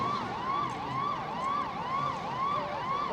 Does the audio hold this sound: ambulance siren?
yes